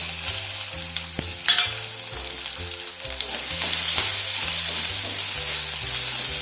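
Bay leaf and chopped onion fry in a pan with a steady, close sizzle and occasional stirring scrapes, while a rhythmic melody plays in the background.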